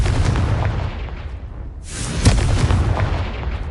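A Confringo blasting spell in Hogwarts Legacy detonates as a loud, booming explosion with a sharp burst, no voices present.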